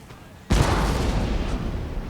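A heavy cannon volley booms out suddenly in the video game Napoleon: Total War, followed by a sustained rumbling roll of battlefield fire that stays loud to the end.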